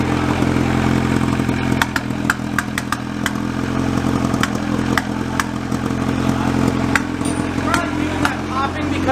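A freshly rebuilt Honda H22 engine running on its first start, a loud steady idle broken by repeated sharp pops and backfires, with voices talking over it nearby.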